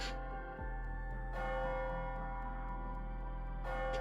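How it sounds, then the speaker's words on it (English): A deep bell tolls at midnight in the video game AI: The Somnium Files - NirvanA Initiative, two resonant strikes with long ringing decay, loud and alone. "Is that the bell?"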